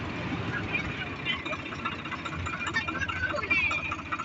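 A tractor engine idles at a steady low rumble, close by and continuous, with background noise around it and no clear voices.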